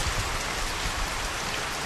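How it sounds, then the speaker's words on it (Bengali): Heavy rain pours down steadily in a dense, even hiss of drops hitting surfaces, with no voices over it. "দারুণ বৃষ্টি পড়ছে, দারুণ।"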